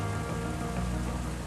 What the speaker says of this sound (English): Numerous storms have brought in more than twice as much rain as normal